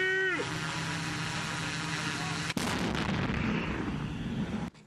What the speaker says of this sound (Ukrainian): Українські десантники відпрацьовують застосування американських та британських гранатометів в умовах, наближених до бойових